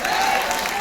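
An audience at a large seminar in Delhi applauds, with a brief burst of dense, steady clapping from a crowd.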